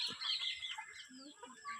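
A flock of young and grown chickens clucks and chirps softly at evening feeding time before going to roost, with short, scattered calls near the listener.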